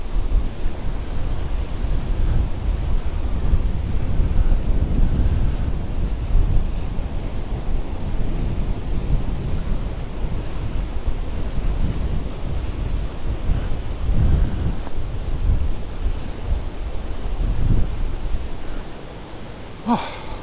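Strong wind buffets the microphone at the seaside in Cala Bona, Mallorca, a loud continuous rumbling roar with gusty swells that eases slightly near the end.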